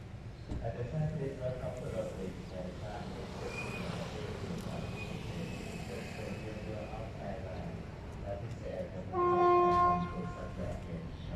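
A steady rumbling train passes opposite Lopburi railway station in Thailand, with a continuous roar and squeal, and a loud horn blast sounds near the end; faint voices mix into the din.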